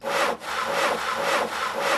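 A hand saw rasps through wood in steady back-and-forth strokes, loud and close, each stroke a harsh broadband scrape with a brief dip between pushes, used as the effect for a 3D animated battle machine's weapon.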